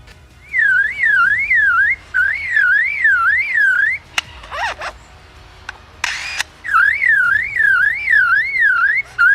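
A male lyrebird mimics an electronic car-lock warble, a loud, rapidly oscillating tone repeated in long bursts, with short mechanical clicking and whirring sounds between them.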